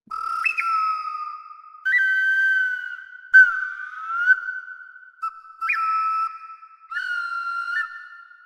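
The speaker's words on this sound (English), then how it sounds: "Bird whistles number 2." A sampled bird whistle from the Quetzal library sounds six or seven separate piping phrases, each opening with a sharp upward flick and then holding a steady pure tone, with short gaps between them, clean and close.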